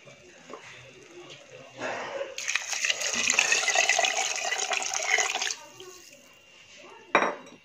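Water is poured into a pan of matar pulao in a home kitchen, a splashing pour lasting a few seconds, followed by a metallic clatter of a utensil; quiet talk surrounds it.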